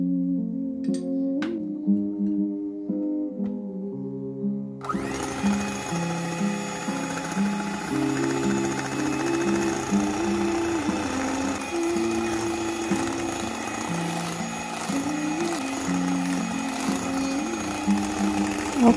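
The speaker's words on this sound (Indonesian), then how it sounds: "Lalu ini kita mixer lagi sampai tercampur" An electric hand mixer whirs steadily while beating cake batter with coconut milk and sweetened condensed milk, a close, continuous motor hum with slight wobbles in pitch and no voices.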